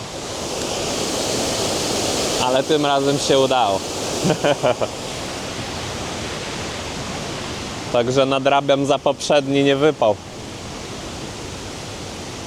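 A waterfall beside the Monsal Trail in England gives a steady, close, broadband rush of falling water throughout, while someone talks over it in two short stretches.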